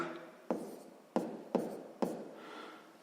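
Pen or chalk writing out a sixth-grade math solution, with four distinct taps and strokes at a steady pace and a soft scratching trail after each, close and quiet with no talk.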